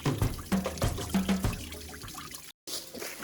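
Stream water running over rocks at a forest trail crossing, a steady splashing babble with bubbly pulses, close and fairly loud, cut briefly by a short dropout near the end.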